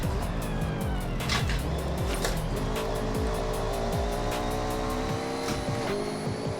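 A race car tears around a track in Forza Horizon 6, with a loud, continuous engine whine rising and falling through gear shifts, plus brief tire squeals, close and steady throughout.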